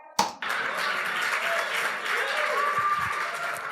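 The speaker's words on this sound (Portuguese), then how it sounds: "E aí o pessoal aplaudiu" An audience breaks into applause: a sudden burst of many hands clapping, sustained and fairly loud, with a crowd's murmur underneath.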